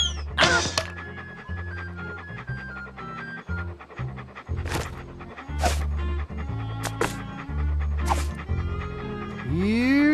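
Walt the dog in Monkey Island 2 pants and lets out a few sharp barks and yips, close and fairly loud, over a steady game music backing.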